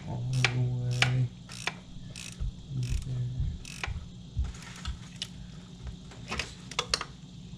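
A socket wrench ratchets in rapid bursts of clicks while tightening a bolt during fuel pump and cam follower replacement on a 2014 Audi Q5 2.0T, with several separate close, loud ratcheting runs and pauses between them.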